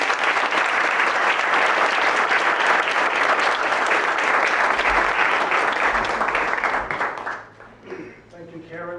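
An audience at a Harvard Extension School leadership event breaks into sustained, loud applause for an arriving speaker, dense clapping that fades out near the end as a voice begins to speak.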